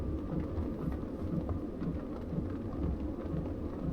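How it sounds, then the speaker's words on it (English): Freezing rain falls steadily outdoors during a wind storm, a soft continuous patter with low rumbling wind beneath, moderately quiet and unbroken, with no voices. "freezing rain again."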